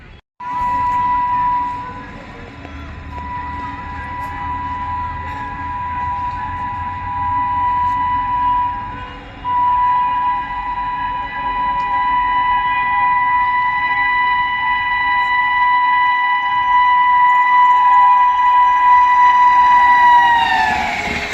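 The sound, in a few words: Mahabodhi Express train overtaking, with horn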